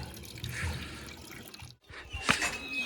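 Cold mountain water runs and splashes near a Himalayan temple as a man washes his head under it, close dripping and trickling with a brief pause, then a sharper splash, with faint voices in the background.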